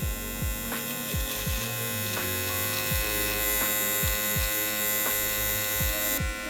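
A Gamma Saber electric beard trimmer runs continuously with a steady high buzz close by, its tone dipping in a repeated rhythm as it passes through hair.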